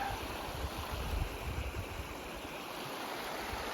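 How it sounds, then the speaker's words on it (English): Cataract Creek in the Rockies rushing steadily nearby, a dense even wash of flowing water that fills the whole stretch with no other sounds. "This is Cataract Creek."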